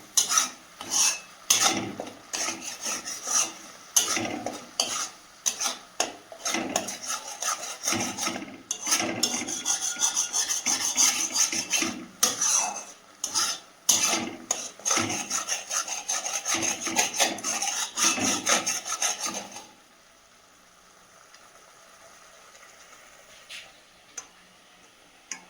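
Spice paste frying in a pan while a spatula stirs it, rapid rhythmic scraping strokes over a light sizzle, close and busy for about twenty seconds before stopping to near quiet.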